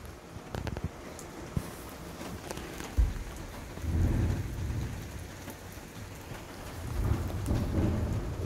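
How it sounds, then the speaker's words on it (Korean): Heavy rain pours down steadily with rumbles of thunder, a dense continuous wash of drops on surfaces outdoors during a storm, with no voices. "비가 많이 오네요"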